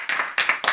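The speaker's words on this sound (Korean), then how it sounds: "그래도 이번에 진짜 다 같이 박수 한번 치시죠." A small group claps hands together indoors in a short burst of a few quick, close claps, brief and uneven.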